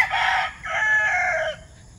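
A rooster crows loudly nearby in a drawn-out, two-part call, then falls quiet.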